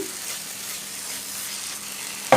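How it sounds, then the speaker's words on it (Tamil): Spice masala frying in oil for a paneer gravy, a steady close sizzle throughout with a brief clunk at the very end. "இந்த மசாலா எல்லாமே எண்ணெயிலே குக் ஆகணும்"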